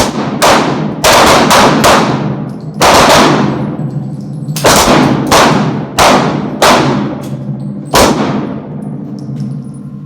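Pistol fire during tactical firearms training on an outdoor range in North Idaho, several shooters firing from a left-handed position, loud sharp cracks in scattered clusters with ringing decay and brief gaps between them.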